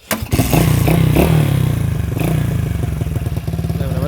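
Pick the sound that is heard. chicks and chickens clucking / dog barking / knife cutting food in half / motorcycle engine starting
motorcycle engine starting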